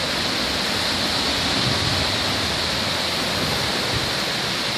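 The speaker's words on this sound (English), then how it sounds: "That's really hard rain, blowing like crazy." Heavy storm rain pours down in a dense, steady roar while strong wind drives it, loud and unbroken throughout with no voices.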